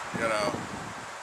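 Wind buffets the microphone in a broad rushing gust, swelling and then easing, with a faint voice in the mix.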